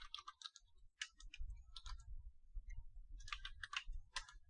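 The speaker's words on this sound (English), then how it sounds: "So I'll type set L host" Keys clicked on a computer keyboard while entering a command in a Kali Linux terminal, with short clusters of light taps separated by gaps over a low background rumble.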